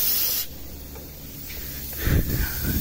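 Refrigerant pressure is released from the air conditioning system of a Renault Dokker, producing a steady close hiss that rises into a louder gushing spray near the end.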